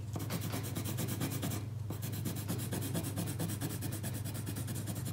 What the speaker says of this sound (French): quand je finis de colorier les bords, je colorie l'intérieur de mon image